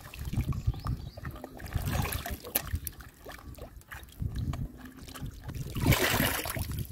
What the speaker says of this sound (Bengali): প্রথমেই আমি পেয়ারটি ধুয়ে নিচ্ছি।